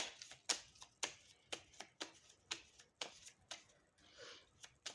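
A small children's card deck is shuffled at close range, producing a rapid series of crisp riffling bursts over about five seconds with brief pauses between them and no talk.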